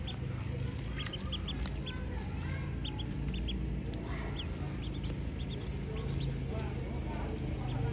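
Three-day-old ducklings peep in bursts of high, short chirps over a steady low background hum, with a voice talking faintly beneath.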